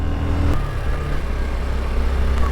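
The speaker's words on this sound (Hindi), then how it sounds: "ट्रक आ रहा है, मोड़ पे मिलेगा" A truck's engine on a winding mountain road toward Shinkula Pass, a steady low mid-pitched drone throughout with no voices.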